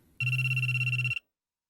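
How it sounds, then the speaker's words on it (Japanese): A mobile phone ringtone in the visual novel G-senjou no Maou plays a steady electronic tone with a pulsing warble for about a second, loud and close, then stops dead into silence. "携帯の音に弾かれるように目を開いた"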